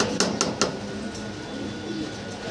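Pigeons for sale give soft, low cooing in a quiet room, with a few sharp clicks near the start.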